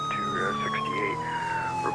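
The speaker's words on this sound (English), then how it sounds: "Change your siren tone." A police car siren in an LAPD roleplay video game wails continuously with a steady descending tone, loud and close throughout, with no speech over it.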